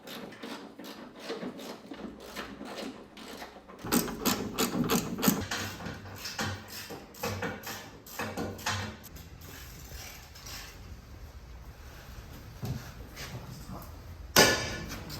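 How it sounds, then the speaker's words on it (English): A ratchet undoes the mounting bolts on the battery of a nine-year-old Nissan LEAF 30kWh. It makes rapid, repeated clicking runs close to the microphone, with metallic knocks between them and a sharp clank near the end. "we're going to undo some of the mounting bolts and then just leave a few of the outside ones in"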